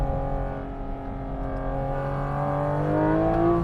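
A Porsche GT4 RS with a PDK gearbox accelerates on an Italian mountain road, its engine note climbing steadily in pitch and loudness through the gears, heard from inside the car.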